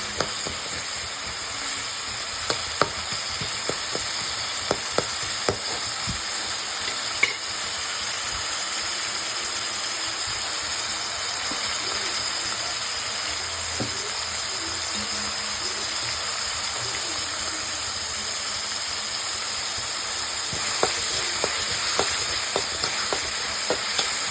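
Chili powder frying and being stirred for a garlic chutney: a constant close sizzle and hiss with occasional scraping ticks from stirring, even in loudness throughout, with no speech.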